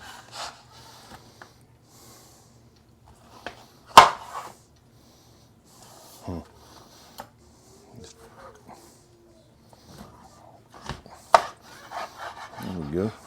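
A knife cuts through smoked St. Louis style ribs in a few scattered, close strokes, soft rubbing slices and dull chops against a board, separated by quiet pauses.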